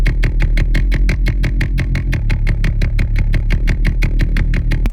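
Heavy drum and bass pluck bass beefed up with a layered vocoder, repeating in a fast, driving pattern of dense, crunchy, harmonically rich hits that stays loud throughout with no speech.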